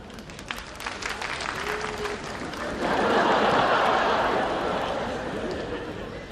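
A comedy show audience in Hong Kong bursts into applause, a dense wash of clapping that swells about halfway through and stays loud, with a voice talking over the start.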